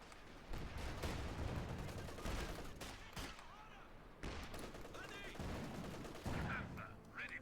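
MG34 machine gun firing in the Company of Heroes 2 strategy game, heard as rattling bursts of automatic fire mixed with heavier battlefield blasts, loud and dense, with faint voice-like sounds in the background.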